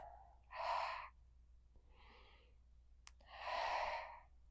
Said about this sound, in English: Match it with a dramatic breath.